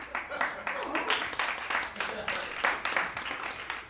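A comedy club audience applauds with dense, lively hand clapping that swells in uneven waves, fairly close and moderately loud, with voices mixed in.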